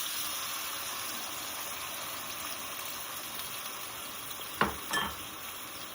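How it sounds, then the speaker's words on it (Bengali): Homemade sauce poured into lightly fried food in a pan, a steady hiss of frying with a couple of sharp splashy bursts near the end as the liquid hits the hot pan. "এবার যে সসটা তৈরি করেছিলাম ওটা এবার এর মধ্যে ঢেলে দিচ্ছি।"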